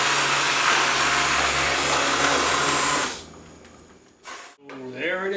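Blender pureeing acorn squash soup with heavy cream, a loud steady motor whir that runs for about three seconds then cuts off, followed by quiet clatter.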